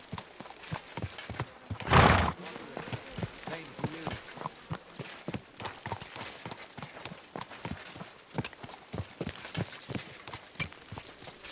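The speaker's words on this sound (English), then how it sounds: "Is this your first time riding a horse" Rapid horse hooves clip-clop steadily throughout in the video game Kingdom Come: Deliverance II, with a loud whinny bursting out near the start; a voice speaks briefly over the galloping.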